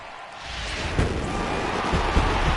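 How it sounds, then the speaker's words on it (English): Stadium home crowd in MLB The Show 18 at a Pittsburgh Pirates game, a broad steady roar of cheering that swells slightly with a couple of louder bursts, no talk over it. "the home crowd is loving it because they jumped out in front in the bottom of the 8th"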